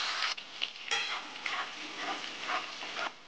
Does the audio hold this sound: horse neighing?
no